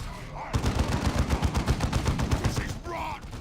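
Rapid gunfire from the real-time strategy game Dawn of War II, dense bursts of automatic shots rattling continuously for about three seconds, loud and close with no talk over it.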